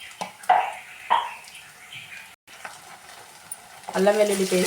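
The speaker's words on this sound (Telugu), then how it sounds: "ఆయిల్ బాగా హీట్ అయ్యాక ఆనియన్, పచ్చిమిర్చి వేసి మంచిగా ఫ్రై చేసేసుకోవాలి." Onion and green chilli fry in hot oil in a pan, with close sizzling and crackle, some stirring bursts early on, a brief pause, then a louder sizzle at the end.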